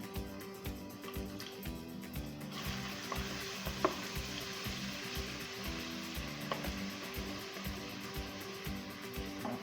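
Garlic sizzles and fries in a pre-warmed pot while cooking shrimp chicken noodle soup, a steady close crackling hiss that grows denser partway through, with faint utensil clinks.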